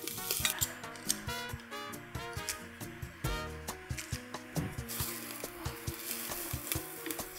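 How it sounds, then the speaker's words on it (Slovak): Chopped onion fries in lard in a pan, giving a soft, continuous sizzle broken by frequent clacks and scrapes of a utensil stirring against the pan. "Tak a teraz môžeme na tejto masti opiesť cibuľku."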